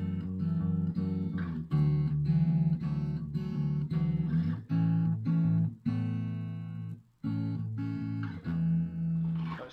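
An electric guitar plays the bridge riff of a song, repeated chords and notes, steady and close, with a brief pause before the phrase resumes.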